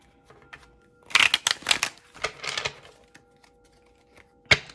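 Tarot cards being shuffled in a few brisk bursts of riffling and slapping, with quiet pauses between, close and fairly soft, followed by one final sharp snap.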